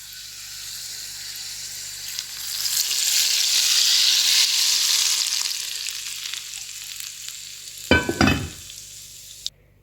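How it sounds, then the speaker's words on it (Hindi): Garlic and butter tempering (tarka) sizzles loudly in hot fat as it is prepared for dal mash, a steady frying hiss swelling and easing, then a few sharp crackling bursts near the end as it hits the dal. "अब इसमें मैं भगार लगाऊंगी"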